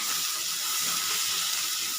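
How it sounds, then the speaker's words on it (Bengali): Ground spice paste frying in a pan over a medium gas flame for chicken kosha, giving a steady, dense sizzle and hiss that stays loud and even throughout with no voices. "মিডিয়ামে রেখে আমি মশলাটা 2 মিনিট কষাবো"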